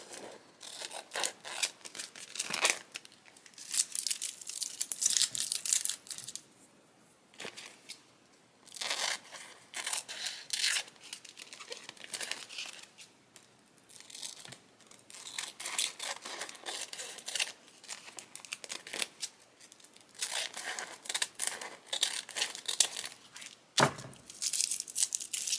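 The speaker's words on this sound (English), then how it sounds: "I'm going to just trim this up to where I don't have any sticky edges" Scissors trimming the sticky edges of a homemade faux acetate sheet, with repeated crisp snips and crinkly rustles in an irregular rhythm, up close and fairly loud, and no voices.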